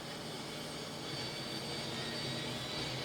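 Turboprop engine of a DHC-6 Twin Otter in the X-Plane 11 flight simulator, turning over without lighting, a steady broad whine and rush that holds level throughout, with no one talking.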